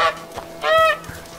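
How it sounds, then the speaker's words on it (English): A goose honks in A Plague Tale, with a few short, nasal honks close by, the loudest in the middle of the clip. "It's a goose."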